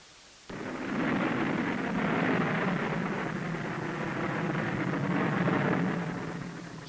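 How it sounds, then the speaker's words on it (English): Rocket motor of a Nike Hercules surface-to-air missile in flight, a sudden heavy roar that starts abruptly and holds as a steady, loud, rumbling blast for several seconds before easing slightly. "Separation of missile body and rocket motor cluster occurs."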